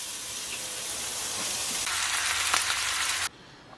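Home-smoked bacon slices fry in a heated pan, a bright continuous sizzle that swells louder midway, then cuts off abruptly near the end.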